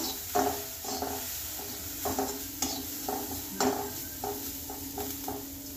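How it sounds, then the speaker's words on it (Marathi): Corn and green peas are sautéed in a pan, with a soft sizzle under repeated spatula scrapes and taps that land roughly every half second, close and moderately quiet. "अर्धी वाटी मी हिरवा वाटाणा घेतलेला आहे। हे यात घालून घेऊया। चांगली परतून घेऊ।"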